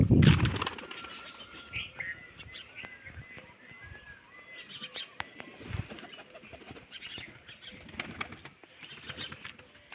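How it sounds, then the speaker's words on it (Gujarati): Pet pigeons beat their wings in a loud, close burst of flapping at the start, then softer flutters, scattered coos and light rustling follow throughout. "બાકી જોવો આપણા કબૂતર"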